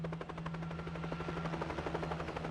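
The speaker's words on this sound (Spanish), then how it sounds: "La pacífica tranquilidad de este lugar se ve interrumpida momentáneamente por el rugido del motor a reacción de este helicóptero ligero." A light jet-turbine helicopter flies over the Italian countryside, its rotor beating in a fast, steady chop over a constant engine roar throughout.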